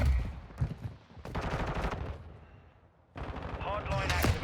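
Gunfire from the video game Call of Duty: Modern Warfare II, an SMG build in play, with heavy bursts of shots and explosive cracks that cut out briefly before resuming loudly.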